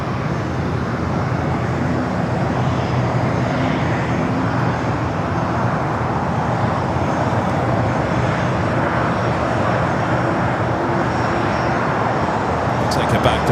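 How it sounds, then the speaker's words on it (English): Converted Airbus A330-200 freighter lined up on the runway at LAX, a steady, broad jet engine rumble held at an even level throughout, with a voice talking over it. "We got this Moss Air converted A330-200."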